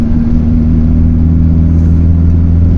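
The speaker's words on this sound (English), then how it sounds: "You can hear already it's feeling like it's revving a bit too much" A vintage Volkswagen T3 van engine drones loudly and steadily at high revs, a constant low hum with a rough buzzing edge and no speech.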